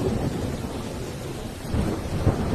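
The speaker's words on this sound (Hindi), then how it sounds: "बारिश भी रुकने का नाम नहीं ले रही है।" Thunder rumbles low and heavy over a steady downpour of rain, the rumble swelling again near the end of a short stretch with no voices.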